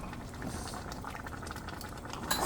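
Egusi melon soup with crayfish simmers and bubbles in a pot as it is stirred, a steady close wet bubbling with a louder clatter at the end.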